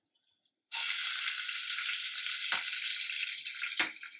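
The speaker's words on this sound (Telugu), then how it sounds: "ఆనియన్ వేసుకుందాం." Onion hits hot oil in a pan with cumin already in it, a sudden loud sizzle after a moment of quiet that stays strong and steady, with two brief dips, close by.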